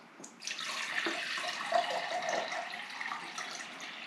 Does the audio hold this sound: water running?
yes